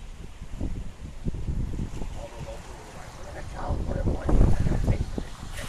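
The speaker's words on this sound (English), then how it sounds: "now we're starting to get some wind going back into it" Gusty wind roars during an Iowa tornado, a rough low rumble with wind buffeting the microphone, swelling louder toward the end while people talk in the background.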